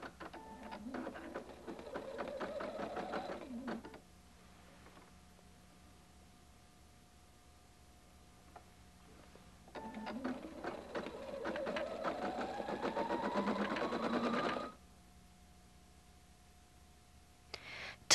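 A Husqvarna Viking Designer 1 embroidery machine stitches a design in two long rapid mechanical bursts with a rising whir, separated by a quiet stretch of faint motor hum.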